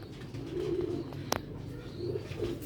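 Pigeons on a rooftop in Sialkot, soft low coos rising a few times over faint background noise, with one brief sharp click in the middle.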